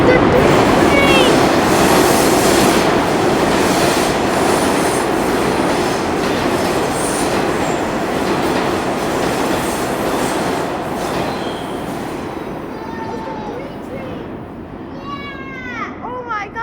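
A New York MTA R62 subway train on the 3 line rushes past with loud rolling roar and clattering wheels, fading gradually, ending with high wheel squeals; voices are faintly audible.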